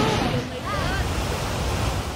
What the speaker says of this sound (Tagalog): Umagos sa mabatong ilog ang kulay abong tubig na yan mula sa Padudusan Falls